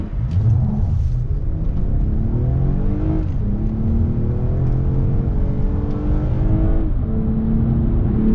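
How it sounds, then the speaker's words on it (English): A 2022 Toyota Avalon Touring accelerates hard in sport mode after a paddle downshift, the engine's loud droning growl heard from the cabin and climbing in pitch through successive gear changes, with no talking. "Knock it down a couple gears, and then you give it the beans."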